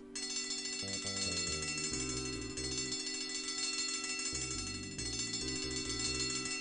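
A continuous bell rings in the point-and-click adventure game Simon the Sorcerer, a bright sustained chiming tone layered with shifting low game music, loud and steady throughout.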